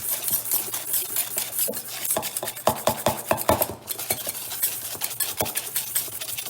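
A whisk beats egg yolks and sugar for a vanilla sauce in a bowl, giving rapid, continuous scraping clicks against the sides, close and steady with no talking.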